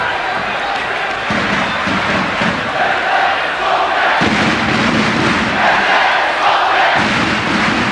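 More than two thousand basketball fans in the Jane Sandanski arena roar continuously at a home game against Real Madrid, a loud, dense crowd din, with a commentator speaking over it.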